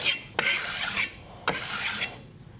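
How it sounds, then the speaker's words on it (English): A metal file rasps along the edges of a steel card scraper in three long strokes, each starting with a sharp bite and fading off, close and clear with no talking. "And then I'll take the file and do the edges."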